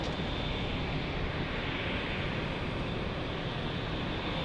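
A Japan Airlines airliner takes off from a busy single-runway airport in San Diego, and its engines give a steady, loud, broadband roar that holds level for the whole stretch with no talking.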